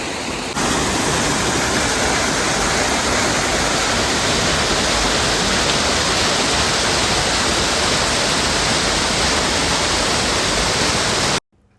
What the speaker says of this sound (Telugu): వాటర్ ఫాల్స్ చాలా బాగున్నాయి, కాకపోతే మొత్తం రాళ్ళు అనమాట